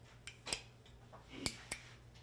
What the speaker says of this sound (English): If I can do it with these ancient scissors